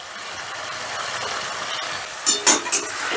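Washed red lentils tipped into a pan of spice paste frying in oil, giving a steady sizzle with a few sharp scraping stir strokes near the end.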